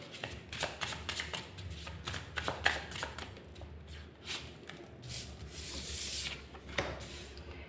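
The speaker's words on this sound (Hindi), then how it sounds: "तो एक बारी मैं आप लोगों के लिए कार्ड्स निकाल लेती हूँ" Tarot cards are shuffled and drawn by hand, giving a close series of papery riffles, rubs and soft slaps in an uneven rhythm, with no one speaking.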